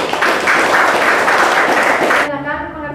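A classroom of students claps together in a dense burst of applause that runs for about two seconds, then cuts off abruptly.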